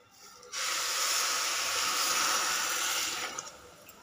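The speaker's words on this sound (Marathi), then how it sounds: "गॅस बारीक करूया आणि उकळलेलं पाणी यामध्ये घालूया।" A steady, loud hiss of water pouring and sizzling into a hot pan for about three seconds, then trailing off.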